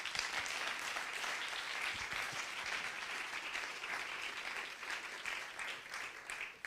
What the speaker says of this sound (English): please welcome Virginia with a big applause